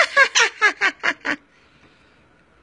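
A sun conure and a quaker parrot give a run of seven loud, rhythmic squawking calls close by, each short and raspy, then fall quiet into near silence.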